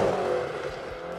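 A 2022 McLaren GT sports car accelerating hard, its engine a steady, muffled roar heard from inside the cabin in one brief continuous stretch without talk.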